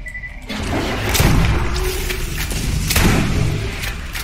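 A grenade goes off in the video game Borderlands amid a fight with skags, producing a couple of heavy booming thuds with noisy blast tails over continuous game background noise.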